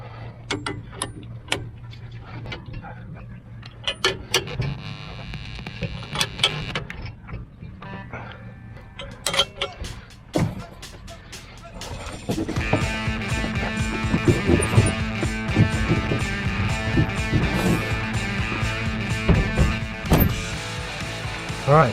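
Wrench work on a weight distribution hitch for a toy hauler trailer: irregular metallic clicks and clanks up close, growing into a denser, steadier ratcheting clatter in the second half, with no talk.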